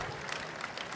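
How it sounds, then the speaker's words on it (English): Audience applause at a 2014 NCAA Division I wrestling semifinals preview show, a steady wash of many hands clapping for about a second at moderate, slightly distant level. "How about a round of applause for Jordan Oliver?"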